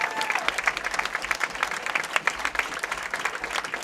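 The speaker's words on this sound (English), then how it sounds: "let's hear a round of applause for all of our teams contending for the boys co-ed championships here this afternoon." A crowd at a high school bowling championship applauds the competing boys co-ed teams, a dense, steady burst of many hands clapping at once, fairly far off in a large hall.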